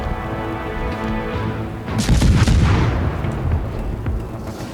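Naval guns fire in a World of Warships battle, with a heavy boom and crackling impact spray rising partway through over a steady background rumble.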